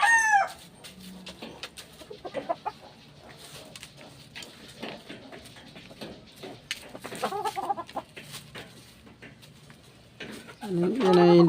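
Gamecock roosters crow loudly at the start and end, with scattered clucks and softer calls in between from a cockfighting bird pen, while someone talks over parts of it.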